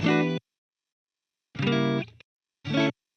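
Three bursts of harsh, buzzy distorted guitar without cabinet emulation, separated by silence, bright and raw with a fizzy top end.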